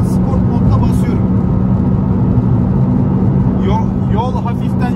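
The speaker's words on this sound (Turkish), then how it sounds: "Şu an sport modda basıyorum." Honda car with a VTEC engine accelerating hard in sport mode up a gentle highway incline, a steady loud engine drone with road and wind noise throughout, with someone talking over it.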